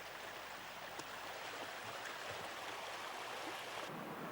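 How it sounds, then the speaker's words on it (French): A calm river at Vaison-la-Romaine, after recent flooding, flows with a steady, even broadband wash of water, moderately distant and unbroken, with no voices. "Aujourd'hui, la rivière a repris son cours tranquille."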